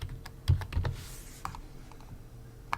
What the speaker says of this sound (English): So you can search for software by just typing the name here.